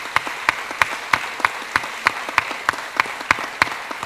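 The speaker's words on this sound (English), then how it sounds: "Give her a round of applause." Sparse applause from an audience at a St. Louis workforce event, a handful of people clapping in a steady, fairly close rhythm with short distinct hand claps.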